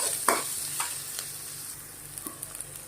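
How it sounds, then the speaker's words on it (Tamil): An onion and three green chillies sauté in a pan, a steady close sizzle overlaid by a few sharp scraping stirs early on and light taps of a spoon toward the end, with no talk. "ஒரு வெங்காயம் நல்லா வதக்கிக்கங்க அதோட ஒரு மூணு பச்சை மிளகா சேர்த்துக்குங்க"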